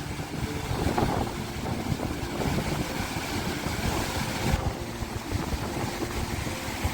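High-tide sea waves wash in at Mandarmani beach, a continuous loud rushing surf mixed with gusty wind buffeting the microphone.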